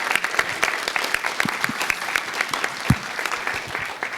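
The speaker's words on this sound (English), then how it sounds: "I want to give them a round of applause" Audience members at a ceremonial Las Vegas city council meeting applaud, with sharp individual claps standing out over a steady patter of many hands, moderately loud and uneven in rhythm.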